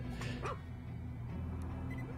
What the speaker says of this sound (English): Who doesn't want a robotic dog?